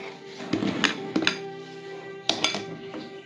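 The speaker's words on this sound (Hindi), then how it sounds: "इसे भी डालकर हम मिक्स कर लेते हैं।" Green food colour is stirred into a sweet mixture, giving a few scattered clinks and scraping taps of a utensil against a bowl, close and fairly soft.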